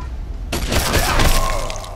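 Gunfire in the Wasteland 2 video game: a sudden loud burst, then a crackling, shattering rumble that stays loud and slowly fades, with no talk.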